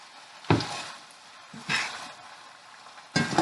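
Fresh spinach sizzles in a hot pan with yellow squash, zucchini and onions, crackling in three sharp bursts as it is stirred, with quieter frying between.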